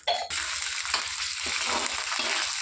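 Ingredients for mint chutney fry in a pan, producing a loud, continuous, close sizzle after a brief stir at the start, with no speech.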